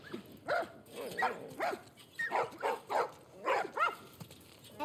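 Several dogs bark in short, repeated bursts in The Last of Us Part I, close and fairly loud, with yips and whimpers mixed between the barks over a faint game background.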